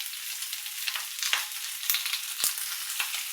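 Chopped onions and capsicum stirred and frying in a pan for chilli chicken, a steady close sizzle with a few scraping clicks of the spatula.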